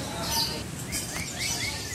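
Songbirds chirp and whistle in short rising calls over a steady background hiss at a bird singing contest, with overlapping calls from several birds across the whole stretch.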